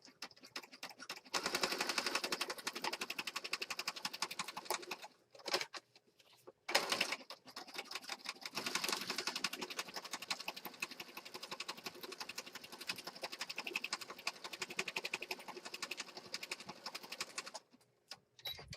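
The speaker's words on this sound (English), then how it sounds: "I got a zigzag stitch on my machine. I have it set to 2 and 2. It's kind of a narrow zigzag." Sewing machine running a narrow zigzag stitch down the edge of a junk journal page, a dense rapid mechanical chatter in two long bursts separated by a brief pause, moderately close, with no speech.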